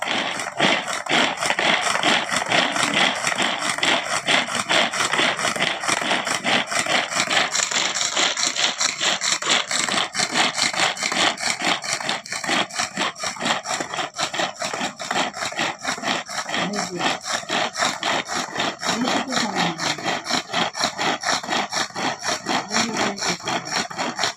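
A pull-cord manual chopper whirs through onions, its rapid, steady rasping churn running close and loud without pause for the whole stretch.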